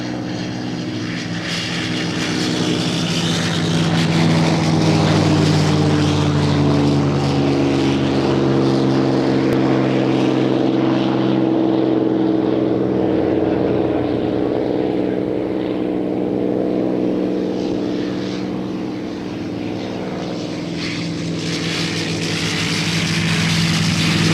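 A polished P-51 Mustang warbird at a Long Island airshow: the propeller-driven piston engine gives a loud, continuous throaty drone with a steady deep rumble and only slight swells in level as it passes.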